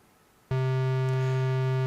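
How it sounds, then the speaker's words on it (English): A synthesizer sounds a sawtooth wave, starting abruptly after a brief quiet hiss and then holding one bright, buzzy, harmonic-rich tone at steady loudness. "Sawtooth wave is very sharp."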